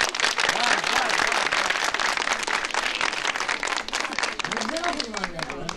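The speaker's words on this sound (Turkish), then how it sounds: "Alkış!" An audience in a studio claps loudly and continuously after a Turkish folk song on a television program in Zonguldak, dense sustained applause with voices calling out over it.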